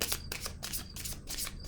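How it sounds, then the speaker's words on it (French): Oracle cards being shuffled by hand during a tarot-style reading, a close, steady run of crisp riffling flutters repeating in quick bursts with no talking. "Ah, attendez, je pense que je vais piger une autre carte."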